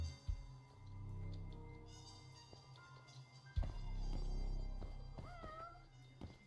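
A cat meows repeatedly in the video game Judgment, with several rising and falling calls over a low game ambience and background hum, moderately clear and at mid distance.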